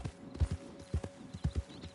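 A horse in the Red Dead Online video game walks with steady, paired clip-clop hoofbeats at a moderate pace, soft and muffled, heard alone without talk.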